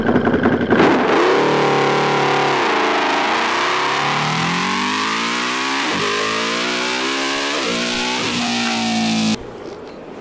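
A motorcycle exhaust heard through a helmet-mounted wireless mic revs loudly and close up. The engine note climbs and falls in repeated sweeps for nearly ten seconds before cutting off abruptly.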